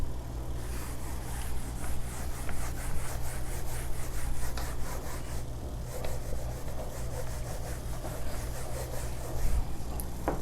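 Chalk or an eraser rubbing equations off a board in a physics lesson makes a steady, continuous scrubbing sound, close and moderately loud, with brisk back-and-forth strokes over a low background hum and no talking.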